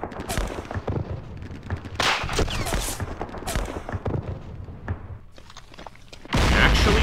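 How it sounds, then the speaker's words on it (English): Airstrikes pounding enemy armor in a 1968 Israel–Jordan war game: a dense run of booming explosions and rattling gunfire rolls on for several seconds, ending in a louder, sustained blast. "let's hope that some of these airstrikes find their targets"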